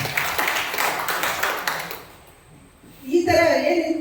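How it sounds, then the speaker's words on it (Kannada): Audience at a local news event in Hassan, Karnataka applauds, a dense burst of hand clapping for the first two seconds, then a quieter lull before louder mixed sound returns. "ಇದಕ್ಕೂ ಒಂದು ದೊಡ್ಡ ಚಪ್ಪಾಳೆ"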